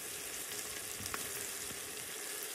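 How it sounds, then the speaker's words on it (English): Onions frying in hot oil in an Instant Pot, a soft, even crackling sizzle that holds steady throughout with a faint tap or two. "You can see how the onions are starting to fall apart here in the hot oil."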